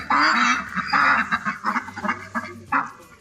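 Several ducks quack loudly and close by in quick, overlapping bursts, with short pauses between calls.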